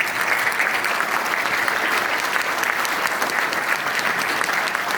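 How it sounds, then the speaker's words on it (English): An audience claps steadily, a dense wash of applause that holds at an even level throughout with no voices standing out. "One more round of applause"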